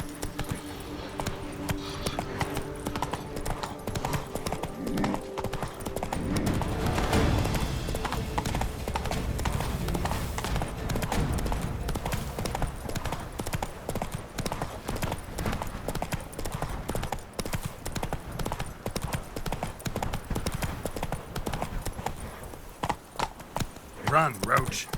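Horse galloping in The Witcher 3: Blood and Wine, a fast, steady clip-clop of hooves running close for most of the stretch, with occasional snorts and a voice speaking now and then.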